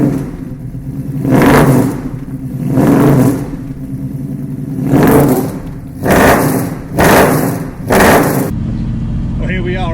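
A Ford Mustang S-Code Fastback engine is revved in about six loud, close bursts, each rising and falling over a deep, rumbling idle.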